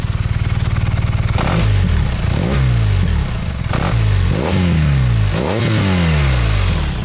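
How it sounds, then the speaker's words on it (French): A 2021 BMW R nineT motorcycle engine revving repeatedly on a race circuit, its pitch rising in sweeps, with occasional sharp exhaust pops and crackles between the throttle blips. "Là on est en dynamique, donc on a des petits pop-pop à l'échappement."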